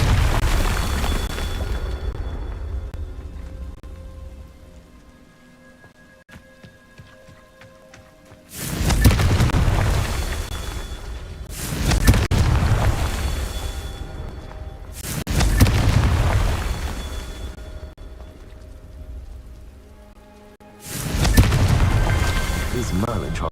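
Confringo spell blasts in Hogwarts Legacy land as four loud booming explosions, each bursting suddenly and then rumbling away, spaced a few seconds apart after a quieter stretch of low background rumble.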